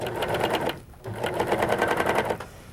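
A Viking Huskylock 1002LCD serger stitches piping at a fast, steady, even mechanical rhythm that runs close and continuous, with only a brief dip midway.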